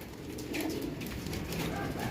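Racing pigeons cooing softly in a loft, a low, steady murmur of overlapping coos at fairly quiet level, close by, with no distinct talking.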